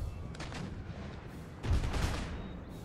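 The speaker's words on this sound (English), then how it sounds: "We're receiving some more artillery fire." Artillery fire in the Empire Total War video game, distant cannon booms and crackling volleys with a heavier blast near the end, set against a dull battlefield rumble without talking.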